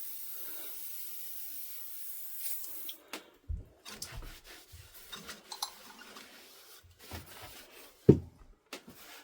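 Water rinses stuck piston rings from a Crossley engine: a steady hiss of running water for the first few seconds, then intermittent splashes, drips and knocks, with one sharper clunk near the end.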